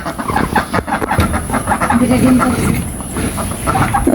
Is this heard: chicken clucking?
yes